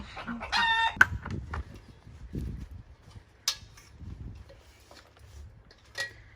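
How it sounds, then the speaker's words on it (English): Chickens clucking in a large homemade aviary chicken run, a few short near clucks and squawks scattered over low background rumble, with faint sounds of handling wire nearby. "What did you do to my chicken, Joe?"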